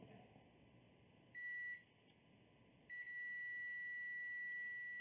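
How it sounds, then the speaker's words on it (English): A multimeter beeps on a continuity check while a 12-volt line is probed during a desktop storage hardware mod: a short tone, a brief gap, then a longer sustained beep, faint against a quiet room. "check if we have continuity with the 12 volt."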